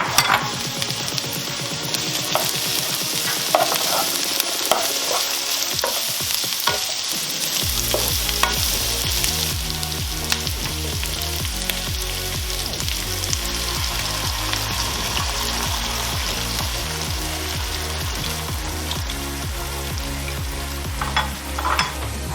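Leftover pork adobo hits a hot pan of garlic and sizzles loudly, while a spoon stirs and scrapes in quick, busy bursts, close up with no voices.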